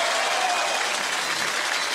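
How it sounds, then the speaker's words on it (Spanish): A studio audience applauds steadily for the national anthem during a television program, a dense, even wash of clapping with no talk over it. "Démosle un fuerte aplauso al himno nacional."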